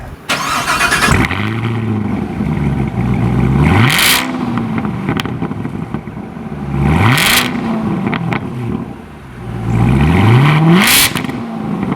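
A 2019 Chevrolet Corvette ZR1 V8 revved repeatedly while standing, three loud rising-and-falling engine sweeps with brief idle dips between them, close and powerful.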